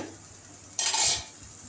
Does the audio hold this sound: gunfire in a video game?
no